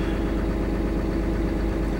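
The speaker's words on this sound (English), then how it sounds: "Engine is running. The key is on." A Cummins diesel engine idles with a steady, dense low rumble, loud and close throughout, and no one speaks.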